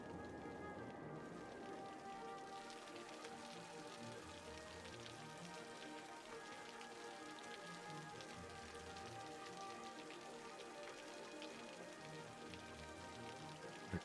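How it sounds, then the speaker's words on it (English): Steady night rain in the city-building game Cities: Skylines, a dense even patter of drops on surfaces that continues unbroken and fairly soft, with no voices over it. "Our town on a rainy night"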